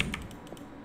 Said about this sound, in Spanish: Ese sonido como un clic